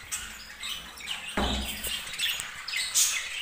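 Pet budgies and long-tailed birds in a cage chirping and tweeting busily, several overlapping calls close by, with a brief rustle of movement, no speech.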